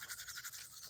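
Quick rhythmic scrubbing of a toothbrush on teeth at a village home in the Konkan countryside in the morning, close and steady, with regular back-and-forth strokes and no talk.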